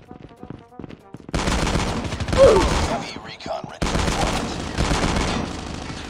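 Rapid shotgun blasts from a one-hit weapon in Call of Duty Mobile, loud and close, firing in dense bursts with brief pauses between volleys and reload sounds.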